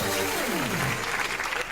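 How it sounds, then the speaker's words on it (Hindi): A comedy show audience claps loudly, with a brief sweeping tone fading at the start as the applause carries on dense and steady for under two seconds. "प्रियंका के लिए जोरदार तालियां हो जाएं।"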